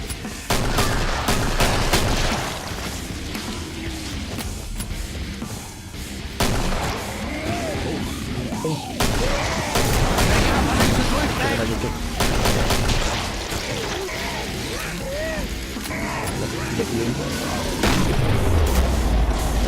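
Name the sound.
gunfire in the video game Killing Floor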